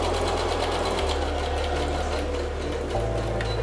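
A sewing machine backstitches while stitching a fabric bowl cozy, a loud, steady, continuous whirring run with a slight shift in its low hum partway through.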